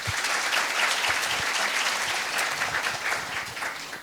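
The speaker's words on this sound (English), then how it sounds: "I just wanted to give you a round of applause." Sustained round of applause from a conference keynote audience honoring event volunteers at Open Infra & Cloud Native Korea 2019, a dense steady clapping wash lasting several seconds without pause.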